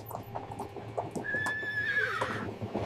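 A horse lets out a loud, drawn-out whinny that rises and wavers, close by, with hooves clopping beneath it and no talking.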